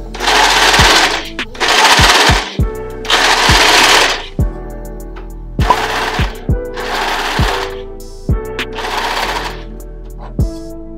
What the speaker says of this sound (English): Just use a zigzag stitch on your regular sewing machine and just sew the edges.